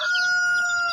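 Native hens with newly hatched chicks make a continuous high peeping and chirping at close range, loud and steady throughout.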